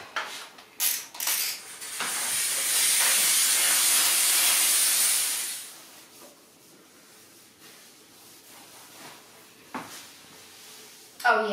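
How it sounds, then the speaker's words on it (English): A Pur Steam Therma PRO 211 steam cleaner blasts a loud, continuous hissing jet for a few seconds while cleaning household baseboards, then cuts off, leaving quieter rubbing and brief bursts. "I think the steam is a big help."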